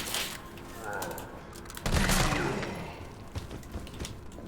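Gunshots in the survival horror game Resident Evil 3, a few sharp reports and a heavier blast amid game noise, with a voice talking over them.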